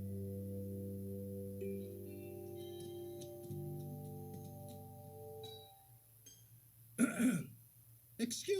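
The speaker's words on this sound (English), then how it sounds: ""Excuse me," coughed a cricket who'd seen Gerald earlier on." A cricket character's cough and throat clearing, voiced by a storyteller reading a picture book aloud; a short, rough burst follows a held musical tone, then a second brief rasp near the end.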